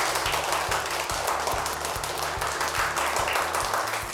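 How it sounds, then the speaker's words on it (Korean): An audience at a university lecture on decentralization and the press applauds the professor, a dense, steady burst of clapping from many hands that stays even throughout, with a faint rhythmic low pulse beneath it. "오늘 강연해 주신 장호순 교수님께 다시 한번 박수 부탁드리겠습니다."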